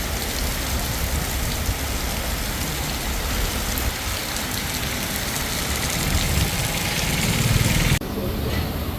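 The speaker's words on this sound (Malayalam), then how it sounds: "ഇവിടെ നല്ല മഴ." Heavy rain falls steadily around a Tata Ace pickup in Kerala during a tyre change, a loud continuous hiss with a low engine idling underneath and some talk.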